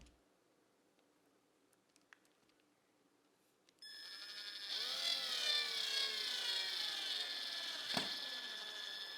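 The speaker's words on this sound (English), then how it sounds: "screw in the feet" A few faint knocks, then a steady whirring drill drives screws into a wooden cutting board to attach its feet, close and continuous, with a brief clunk near the end.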